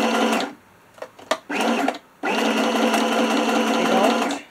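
Sewing machine stitching a big zigzag stitch on a handmade journal, a loud close whirring run, brief stops and short bursts, then a long steady stretch of stitching.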